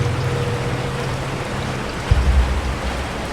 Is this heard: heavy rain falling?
yes